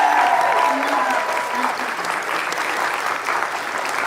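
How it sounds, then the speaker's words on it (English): Audience at an Asian American heritage awards event breaks into steady applause, a full room of clapping that stays fairly even throughout, with faint voices underneath. "Can we please give like a round of applause?"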